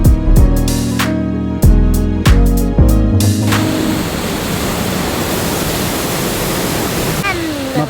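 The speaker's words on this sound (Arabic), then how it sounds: "ان المية دي كلها جاية من فوق الجبل لحد تحت" Mountain water in the German Alps rushes downhill in a steady, loud broadband roar that takes over after a few seconds of rhythmic music and then continues alone.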